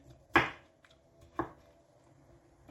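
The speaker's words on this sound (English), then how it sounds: "just chop it up a little bit." Broccoli being chopped with a knife on a cutting board for vegan broccoli rice: two crisp, close chops about a second apart, with a fainter knock between and a light tap at the end, no talking.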